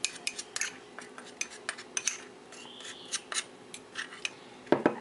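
A utensil stirs and scrapes a mixture with alcohol gel in a container, giving a string of quiet, irregular clinks and scrapes close by.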